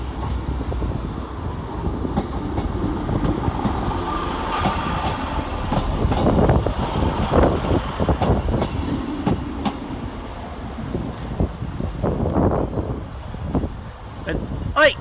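A Northern Rail train rumbles and clatters through Sheffield railway station at close range, rising and falling over the span as wheels knock on the rails, with wind and scattered station noise around it.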